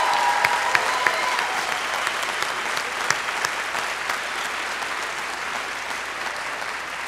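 A crowd applauding steadily at a university commencement ceremony, with dense clapping that holds at a constant level throughout, with no voices over it.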